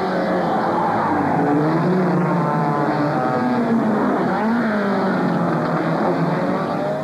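Race cars in the 2004 6 Horas Peruanas endurance race jostle for position before a chicane, engines droning at a steady, fairly loud pitch with rising and falling tones as one overtakes another.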